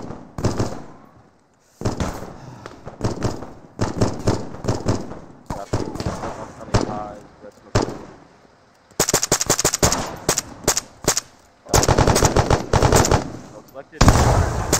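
Gunfire from the military shooter ArmA 3 comes in loud bursts of automatic fire and single shots, with dense volleys separated by brief pauses and some voices in between.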